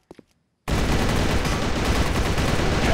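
Sustained automatic gunfire in a warehouse map of a shooter video game, loud dense bursts bursting in abruptly after a brief near-silence with a couple of faint clicks.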